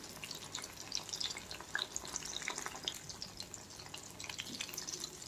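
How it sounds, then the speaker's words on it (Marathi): Prawns (kolambi) fry on medium heat until crispy, giving a soft continuous crackle and sputter in a pan with scattered small pops, fairly faint and close, with no voices. "क्रिस्पी होईपर्यंत तळूया आपण"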